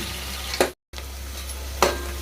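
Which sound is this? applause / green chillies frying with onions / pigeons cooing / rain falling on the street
green chillies frying with onions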